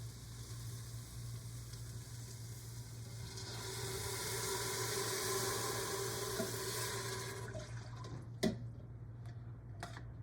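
Water pours into a hot pot while cooking a burrito bowl, a rising, hissing sizzle that swells and then dies away, followed by a couple of sharp metallic clinks.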